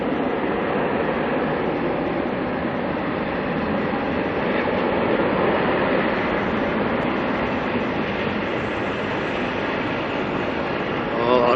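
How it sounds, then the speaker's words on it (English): Airliner jet engines spooling up at Auckland Airport, a broad, steady roar that stays loud and unbroken throughout, with a slight swell toward the end. "Those engines warming up."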